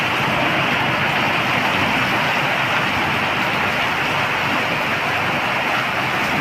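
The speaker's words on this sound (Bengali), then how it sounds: "প্রচুর বৃষ্টি হচ্ছে আমাদের এখানে" Heavy rain pours down in a flooding downpour, a loud, unbroken roaring wash of noise with no pauses or voices.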